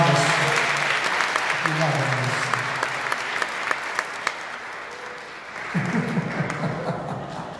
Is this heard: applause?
yes